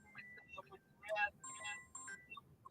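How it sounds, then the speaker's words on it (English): Phone ringtone playing a bright electronic melody of short repeated tones, moderately close, with people talking over and between the rings. "I was just saying we can't hear you when your phone's ringing."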